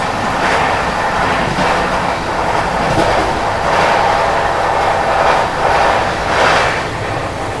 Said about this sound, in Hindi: गजब की रफ्तार में ओवरटेक किया है तेलंगाना एक्सप्रेस को। Overtaking Andaman express.